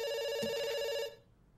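In a heist video game, a telephone rings once with a bright, electronic trill that sounds close and clear, then cuts off and leaves only faint room noise.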